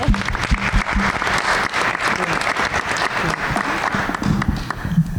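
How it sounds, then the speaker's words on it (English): Applause rises from a panel audience at an arts anniversary event, a steady wash of many hands clapping for several seconds with faint voices underneath. "Let's give a warm applause."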